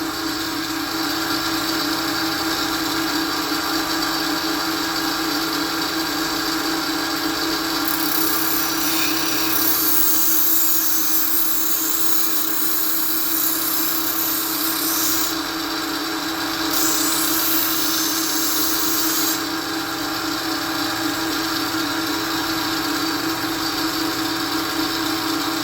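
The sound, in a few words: grinder sharpening a chef's knife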